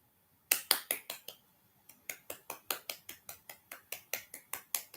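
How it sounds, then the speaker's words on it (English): A single person claps hands alone in a quiet room: a few sharp claps, a short pause, then a long even run of crisp, close claps at a brisk steady rhythm. "I'm clapping. Good job."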